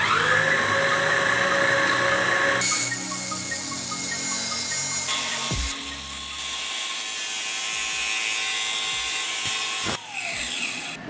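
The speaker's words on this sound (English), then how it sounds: "use a grinder with the cutoff wheel, cut off a 1/4 inch of this lip here" An angle grinder with a cutoff wheel cutting the lip off a metal grout removal bit, a loud, sustained high whine that shifts pitch as the wheel bites and spins down, with brief pauses.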